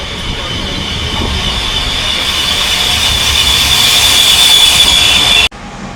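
Steady loud rumble and rushing noise of a train in motion in Poland, with a faint high whine, cutting off abruptly near the end.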